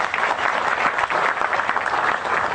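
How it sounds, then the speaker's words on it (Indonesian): A live audience at a talk by Cak Nun breaks into steady, dense applause, many hands clapping at once in a continuous wash that fills the room without pause. "Tepuk tangan untuk dia."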